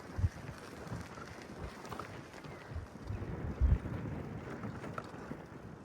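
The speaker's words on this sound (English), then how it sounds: "the headwind is coming from the south pretty strong" Strong headwind buffeting the microphone on a gravel bike ride on a dark, stormy day, a steady low rumble of wind noise with a few heavier gusts.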